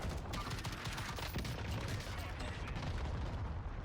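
Dense, continuous gunfire from a Call of Duty Warzone duos match, a loud unbroken barrage of shots and blasts with a faint voice underneath.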